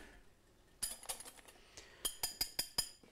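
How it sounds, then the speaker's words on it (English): Egg whites are whisked by hand in a bowl for an eggnog, giving a quiet, quick, rhythmic series of metallic clinks and taps that come in two short bursts, with no talking. "Now I'm now going to whisk the egg whites, not too stiff"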